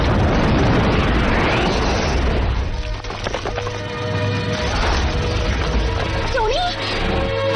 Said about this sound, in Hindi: 5 सेकंड में जहाज में विस्फोट होने वाला है।